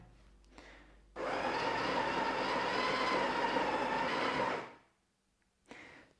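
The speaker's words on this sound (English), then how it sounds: "you just press and hold it for a couple of seconds and then the grinder will continue to run until you press it again" A Sage Barista Touch Impress coffee grinder purging, a loud steady whirring drone that starts abruptly, runs for about three seconds and cuts off, with short fainter motor bursts before and after.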